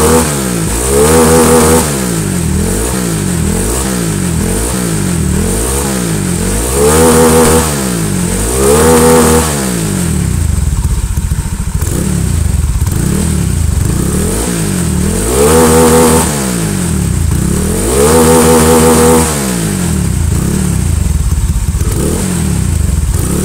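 Honda Vario 125 scooter with stroke-up and bore-up engine work, on a standard ECU, revving loud and close in repeated throttle blips that rise and fall over a rough idle, with no talk.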